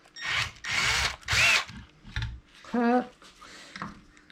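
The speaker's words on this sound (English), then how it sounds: "I think I can drill it in one punch" A power drill whirs in several short bursts, with pauses between, ending in a rising whine as the bit bites through.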